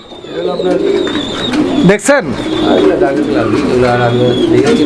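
Pigeons, including a pair of young birds, coo close by beneath a man's loud, continuous talking, the soft calls running steadily under the voice.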